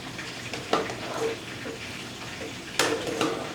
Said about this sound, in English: I'm gonna get this another little quick stir